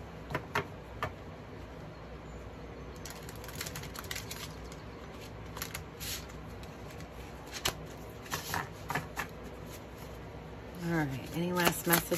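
Tarot cards being shuffled and riffled close by, a soft continuous papery rustle with flicking bursts, while a person talks over it throughout.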